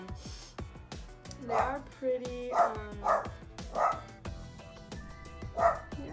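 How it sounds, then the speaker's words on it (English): A dog barks in short repeated bursts, about five of them spread evenly across a few seconds, fairly close and clear, while a person talks softly in between. "That's my dog."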